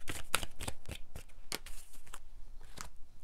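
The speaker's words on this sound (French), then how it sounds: "On va prendre 2 cartes du manuscrit pour voir." Two tarot cards drawn from a deck give a quick series of crisp papery flicks and snaps, close and fairly quiet, with no talking.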